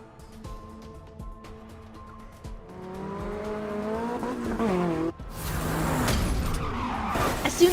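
Racing car in a video game revving hard and skidding with tire squeal as it speeds toward a barrier, engine tones climbing and the noise growing louder into a rough, broadband roar near the end.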